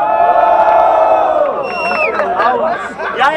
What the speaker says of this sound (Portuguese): quem gostou dessa batalha, faz barulho aí nessa porra